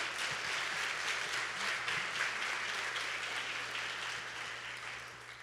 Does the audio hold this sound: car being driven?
no